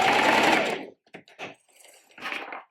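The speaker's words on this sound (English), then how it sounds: "I'm just going to sew straight off the fabric" A domestic sewing machine runs a straight stitch off the edge of the fabric while making a jumpsuit. A fast, whirring burst comes first, followed by a few short, quiet stitching spurts and some clicks.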